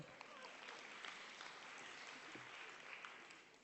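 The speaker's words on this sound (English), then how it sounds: "Round of applause for Chris." An audience at a conference plenary gives a round of applause for a speaker, a continuous, even patter of many hands clapping, moderately distant and faint in level, with scattered voices underneath.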